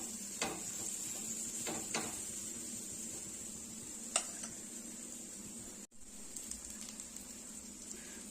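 A vegetable pancake roasts in a pan, giving a steady, faint sizzle with a few brief scrapes and taps of a utensil over it.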